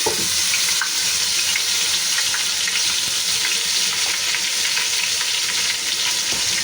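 Steady, loud sizzling of garlic ginger paste frying in hot oil, a dense crackling hiss that continues throughout with occasional stirring clicks.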